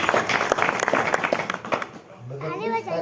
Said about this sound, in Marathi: जोरदार टाळ्या होत्या त्यांच्यासाठी